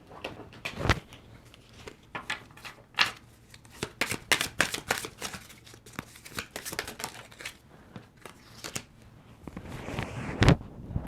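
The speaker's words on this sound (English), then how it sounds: "I gave it a shuffle to see if something popped out" Tarot cards are shuffled by hand in repeated riffling bursts, crisp and close, with short pauses between shuffles and a soft thump near the end.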